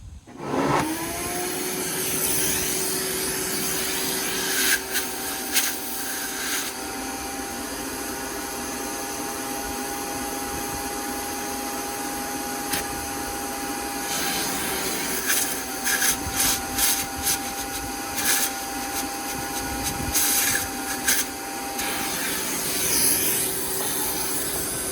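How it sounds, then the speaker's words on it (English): Steady vacuum whine holds near and loud throughout while a cylinder bolt hole on a Freightliner cabover truck is sucked clean, with brief rises and sputters as the nozzle shifts. "Now I need to clean out that hole. I'm going to use the vacuum first"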